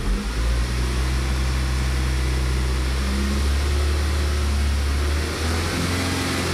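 Car engine with a lean-running fault (system too lean, bank 1) being raised to a higher RPM, a loud steady drone with low humming tones that climb slightly and hold, no talking over it.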